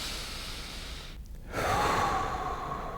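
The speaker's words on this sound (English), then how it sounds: "You're just going to make sure that you get a nice deep breath in this position" One deep inhalation taken while holding a stretching position, audible as a rising breath that follows a short pause. It is close and moderately loud against faint background noise.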